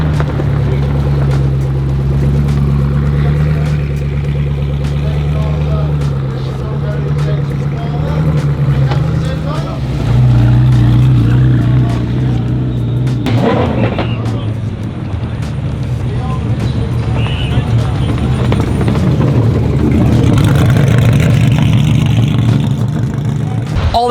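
A Koenigsegg supercar engine drones steadily at idle with deep rumbling, then briefly rises in pitch, while other cars sit staged nearby and a person talks over the engine noise.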